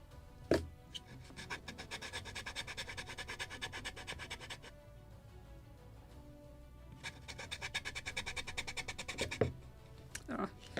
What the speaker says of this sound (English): That's why I'm sanding it.